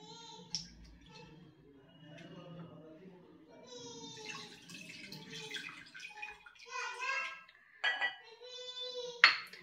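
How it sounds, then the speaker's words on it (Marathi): Water sloshes and swirls in a bowl as lentils are rinsed, with light clinks of utensils and a voice faintly in the background. "2-3 वेळेस पाण्याने स्वच्छ धुवून घेऊयात."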